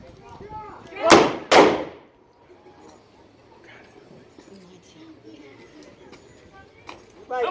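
Two loud, close gunshots in quick succession ring out during a staged Old West gunfight show in Oatman, Arizona, followed by quieter crowd noise and faint voices.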